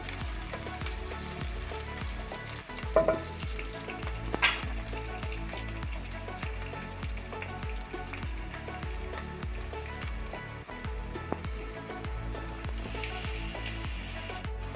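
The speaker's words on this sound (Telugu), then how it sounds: "ఉల్లిపాయ పచ్చిమిర్చి వేసుకున్నాం ఇది కూడా కొంచెంగా వేపుకున్నాము" Onions and green chillies fry in a pan while Maggi noodles are being cooked, a soft continuous sizzle with faint rhythmic scraping and a couple of louder clinks, no voices.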